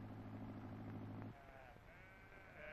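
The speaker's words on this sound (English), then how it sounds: "Grandfather's taking the children to see the sheep and lambs." Sheep and lambs bleat in a summer farm field in an old 1950s film. A long, loud bleat is followed by fainter, higher calls over a steady background hiss, with no talking.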